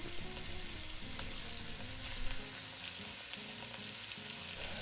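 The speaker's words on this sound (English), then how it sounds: "And I am going to sear it in that heavy bottom pan." Pork neck bones seasoned with salt and pepper, searing in a heavy-bottom pan with a continuous soft sizzle and crackle, fairly faint over a low background hum.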